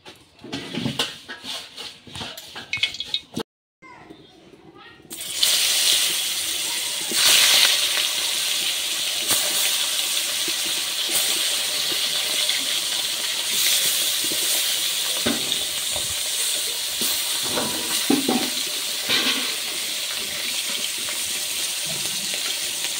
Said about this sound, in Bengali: কড়াই গরম হয়ে গেছে, আমি কড়াই তেল দিয়ে দিচ্ছি।